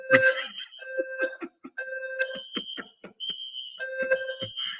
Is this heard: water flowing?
no